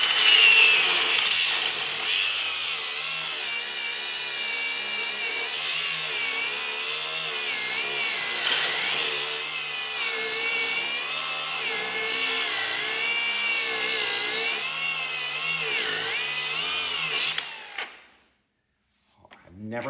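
An electric clutch being ground down: a loud, steady, whining grind that runs continuously for about seventeen seconds, then cuts off abruptly into near silence.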